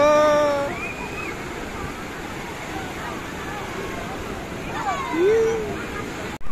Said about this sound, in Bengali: এই যে বড় ঢেউ এসছে, বড় ঢেউ এসছে